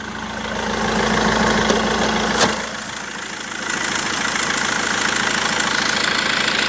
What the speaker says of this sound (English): Engine is clean, working real nice.